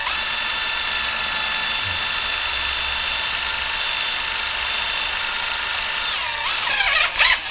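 A DEWALT drill taps threads into aluminum with tapping fluid, giving a steady, loud high-pitched whine that holds evenly, then near the end shifts into a few quick rising and falling bursts as the tap reverses out.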